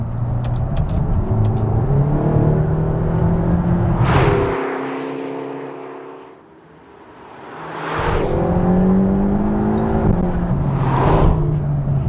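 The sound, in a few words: V8 sports car accelerating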